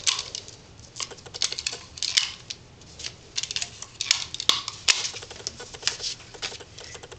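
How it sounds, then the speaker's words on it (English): Scotch double-sided tape is pulled and pressed onto glossy paper and card for a craft project, giving a string of sharp close crackles, rips and taps with short pauses between them and no talk. "So I'm going to tape that on here."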